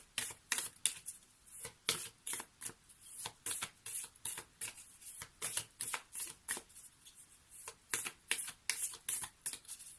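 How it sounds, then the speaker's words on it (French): Cards from the Envolée sauvage oracle deck are shuffled in quick riffling bursts, close and crisp, a rapid irregular series of papery flicks and slaps with no talking. "on va prendre une carte issue d'Envolée sauvage"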